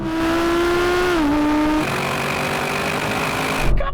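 An Audi race car engine holds a steady high whine, then the pitch drops sharply as it shifts gear and continues at a new steady tone.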